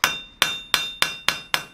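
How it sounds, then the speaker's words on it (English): Six evenly spaced, ringing back face hammer blows on hot steel while forging a planishing foot tool for chasing, loud and close, each strike decaying before the next. "now we're going to use some back face hammer blows to dress out the squareness of the foot"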